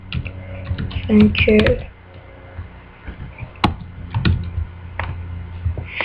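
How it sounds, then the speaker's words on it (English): Keys clatter on a computer keyboard while a batch game menu is coded, in quick bursts of close, crisp clicks with a short spoken word mixed in. "So I'm going to type"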